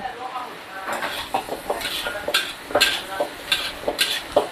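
Radish cake stir-fried in a pan with dark soy sauce and green onion tips: close, uneven scraping and stirring bursts over a light sizzle, with faint clinks of a utensil against the pan.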